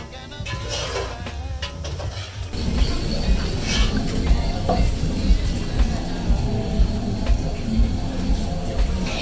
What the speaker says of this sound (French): on continue avec les fritures